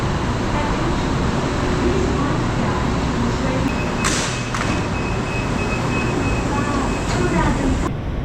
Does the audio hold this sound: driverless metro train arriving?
yes